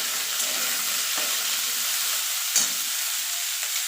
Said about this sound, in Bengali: কপিটা একটু নাড়াচাড়া করে নেব।